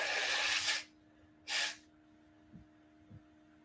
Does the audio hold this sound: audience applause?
no